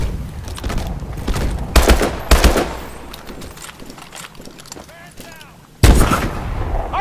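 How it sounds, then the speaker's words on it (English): Gunfire rings out in the video game Call of Duty: Advanced Warfare, with loud, sharp shots and rattling bursts over a continuous battle rumble, some louder blasts standing out, and brief voices in the mix. "On your shot, Mitchell. Open fire!"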